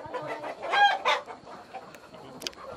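Local-breed chickens on a farm cluck in a few short bursts, fairly close and clear, with a brief higher squawk near the end and quiet ambience between.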